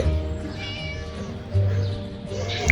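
A kitten meows in the video game Scary Teacher 3D, with a few short close cries over background game music and ambience.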